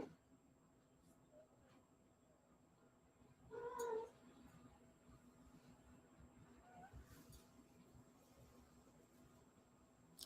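A single cat meows once, fairly close, in a short drawn-out call partway through, then stays quiet over a low, steady background hum.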